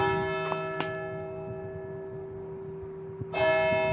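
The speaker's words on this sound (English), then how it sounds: "Right on cue, the church bells." Church bells ring out with a sustained, resonant tone, several strikes sounding over a steady background hum with a few faint knocks.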